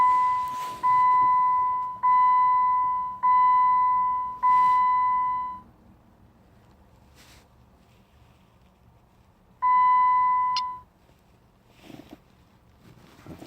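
A Ripp supercharger engine tuner beeps as it is powered back on: four long, even tones in a regular row, a pause, then a fifth tone, all over faint wind-like background noise.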